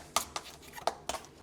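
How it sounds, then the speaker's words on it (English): A crimp on a rubber fuel line being cut open at the rear of a BMW E46 M3, four short, sharp snips spaced apart, quiet and close, with no talk. "To replace this rubber line, we just need to cut open this crimp here."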